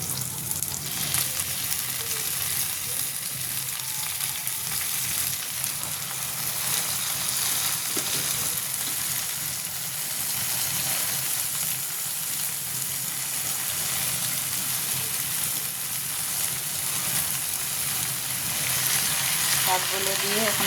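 Jute greens sizzle steadily in hot oil in a pan as they are stirred and tossed, a continuous close frying hiss with occasional scraping, no talk.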